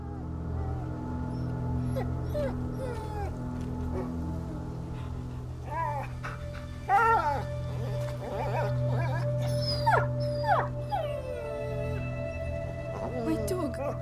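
A dog in A Plague Tale: Innocence whimpers and lets out rising, wavering howls over a low droning game ambience, with brief voices heard in places.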